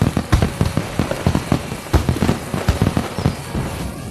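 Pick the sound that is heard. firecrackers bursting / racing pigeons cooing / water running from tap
firecrackers bursting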